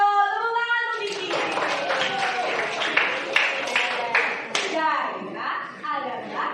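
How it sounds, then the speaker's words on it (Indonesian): Elementary classroom applause for a student, a burst of children's clapping rising after a spoken voice and fading out as talk resumes. "Tepuk tangan untuk Diki."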